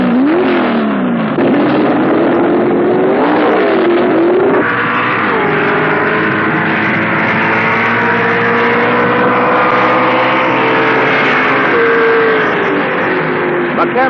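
A 1970 NHRA US Nationals drag race between a Plymouth Duster and another Plymouth, with loud high-revving engines roaring through a gear change and then holding a steady wail down the strip.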